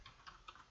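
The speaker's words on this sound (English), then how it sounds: "So you just type in auto" Someone types a short command on a computer keyboard while setting up a Raspberry Pi. A few faint, quick key clicks sound in a brief burst.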